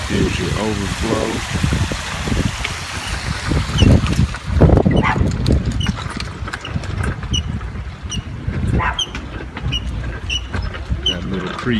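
Water flowing from the overflow of a mountain lake into a small creek near Lytle Creek, a steady close rushing wash with clicking and knocking bits over it, loudest in the middle and continuing evenly to the end.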